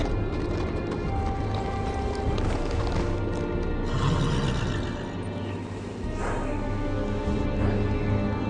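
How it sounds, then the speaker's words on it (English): A horse neighs with hooves clip-clopping in a Game of Thrones video game scene at the Wall of the Night's Watch, loud and continuous over a dense bed of game ambience and music. "On a horse, no less."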